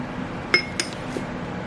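Eggs and oats are added into a bowl with a few short glassy clinks and taps, close and fairly quiet, spaced over about a second.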